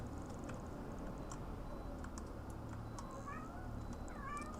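A kitty meows softly a couple of times, faint and high, under a steady background hum with light clicking nearby.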